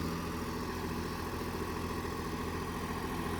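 A Swaraj 744 FE 4WD tractor engine runs with a steady, close, throbbing diesel drone and a constant low rumble, with no break or change in pace over a few seconds.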